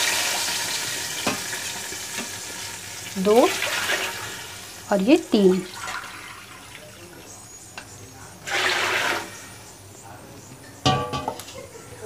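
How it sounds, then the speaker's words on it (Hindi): Water being poured into a pot for making biryani, heard in a few separate splashing bursts with pauses between them, while a person talks over the kitchen sounds. "तो बस अब इसमें डाल देंगे पानी"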